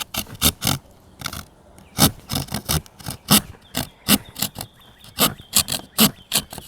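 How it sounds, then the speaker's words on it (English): A Camillus Carnivore blade's saw edge rasps through a piece of bamboo in quick, close, rhythmic back-and-forth strokes, about twenty sharp scraping pulls in a few seconds. "let's saw through this piece of bamboo"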